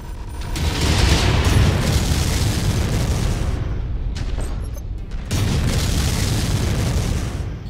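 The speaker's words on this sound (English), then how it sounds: "Incoming missile." Missile explosions in the MechWarrior 5: Mercenaries mech combat game, a loud sustained booming roar that swells, briefly thins, then surges again with rumbling bursts.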